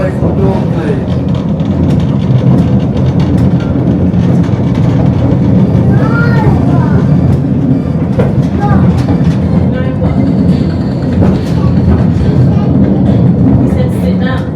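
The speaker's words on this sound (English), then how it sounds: "I rode the hill train back up, and we're back at the beginning" The LEGOLAND Windsor hill train ride rumbles and clatters steadily along its track, a loud continuous rolling noise with squeals and clicks, while people talk over it throughout.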